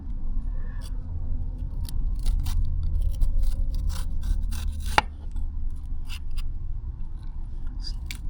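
Knife slicing down the sides of a fresh jalapeno on a cutting board, giving a run of close, crisp scraping cuts with one sharper tap near the middle, steady throughout with no talking.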